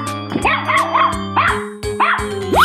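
An animated dog in a cartoon animal guessing game gives a quick run of several bright, close barks and yips.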